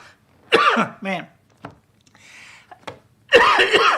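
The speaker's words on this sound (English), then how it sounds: "I don't know why singing makes me cough" A man coughs in several sharp bursts, some short and some longer, close to the mic in a quiet room, with brief silences in between.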